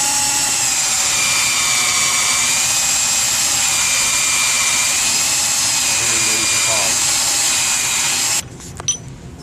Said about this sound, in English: You can tell where it begins to bind at by the load on the drill.